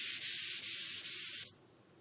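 A filtered hard trance synth runs through a delay effect as a bright, hissy wash that pulses in short repeated bursts. It cuts off abruptly, leaving a faint low tail.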